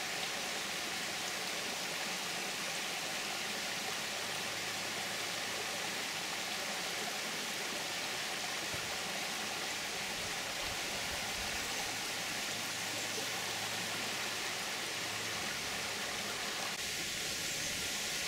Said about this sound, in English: This is more of the little water feature coming down from the waterfall